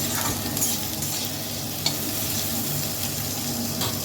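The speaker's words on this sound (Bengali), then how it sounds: "টমেটোটা দিয়েও কিন্তু ভালো করে একটু নাড়াচাড়া করব।" Chopped tomato, potato and onion frying in a pan, stirred briskly with repeated scraping strokes over a loud continuous sizzle, close up, with no talking.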